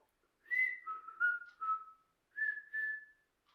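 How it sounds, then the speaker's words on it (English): A person whistles a short tune alone: five clear notes, a pause, then two more held notes, soft and close. "You can whistle."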